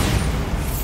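A Bombarda blasting spell cast in Hogwarts Legacy lands as a short, deep, rumbling boom, loud and close, filling the brief moment with low roar.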